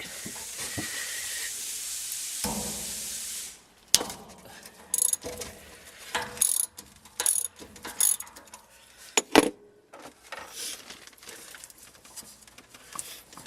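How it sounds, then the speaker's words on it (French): A ratchet wrench with a 5/8 socket loosening a filter screw, first a steady hiss, then a run of sharp clicking bursts and metallic clacks at close range, with no talk. "Et on y va, on va dévisser."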